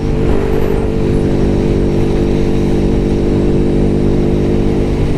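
Kawasaki motorcycle engine running during a rebuild, a loud, steady, close-up idle with an even mechanical throb throughout and no talk.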